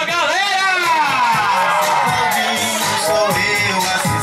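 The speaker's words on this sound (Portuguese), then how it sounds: "Uma salva de palmas pra mamãe Elaine e pro papai Alexandre!" Guests at a child's birthday party cheer and whoop together, a loud, continuous crowd roar with excited voices rising and falling for a few seconds.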